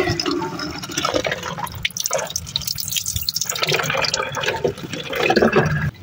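Water splashes and trickles as it is poured into a half-filled bottle holding a strong-smelling liquid medicine, an uneven, gurgling stream that continues steadily throughout, close by.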